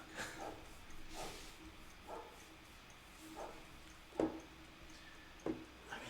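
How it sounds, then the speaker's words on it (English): A dog barks in short, irregular bursts, about six times over several seconds, slightly distant, with a faint steady background hum. "Barking dog."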